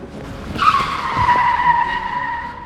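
A speeding car in a chase scene skids hard, with a sharp, sustained tire squeal rising over engine roar. It is loud and close, and no one speaks.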